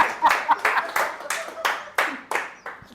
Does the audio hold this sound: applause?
yes